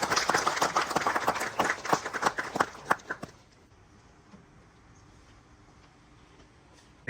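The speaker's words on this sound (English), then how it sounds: "Please give him a round of applause." Audience applause for a guest speaker at an aerospace colloquium at the Indian Institute of Science: sparse, uneven clapping from a modest crowd for about three seconds, then it stops abruptly into room quiet.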